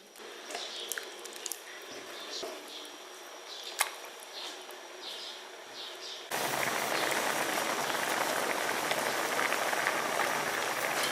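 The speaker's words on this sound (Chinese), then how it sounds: "鱼片压好了，咱放到锅里。" Grass carp fish slices simmer in a seasoned pot of water for spicy fish. After a few seconds of quiet dripping and small pops, loud, steady bubbling and boiling starts and holds close by.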